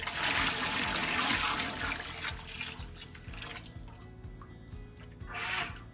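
Hot process soap batter, cooled to about 180 degrees, is poured into light trays. A steady liquid trickle and gloppy pour runs near and continuous, fading midway, then swelling again toward the end.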